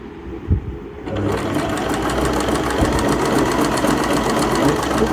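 A Singer Fashion Maker 1412 sewing machine sewing a zigzag stitch starts after a brief clatter and then runs at a steady, fast, loud mechanical whir with rapid repeating needle beats.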